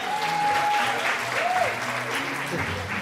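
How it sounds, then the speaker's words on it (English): Audience at a gender conference applauding an award recipient, a steady wash of clapping from a crowd with a few voices mixed in, lasting the whole moment. "A round of applause for Dorcas."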